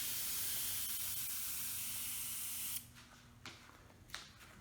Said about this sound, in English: This is the Prevail sprayer, and this is what it looks like when I spray it.